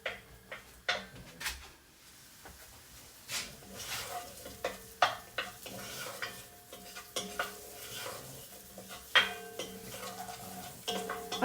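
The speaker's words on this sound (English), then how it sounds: "So I'm just going to melt that butter and soften the onions." Butter melting with onions softening in a pan for an autumn soup, a low steady sizzle under intermittent scraping stirs and light utensil taps, fairly quiet and close with no talking.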